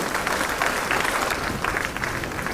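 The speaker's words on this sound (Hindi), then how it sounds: "तालियां लगातार हो, जोश से भरेंगी।" Dense, even applause from the audience at a JSSC appointment-letter ceremony, a short unbroken wash of clapping heard on its own.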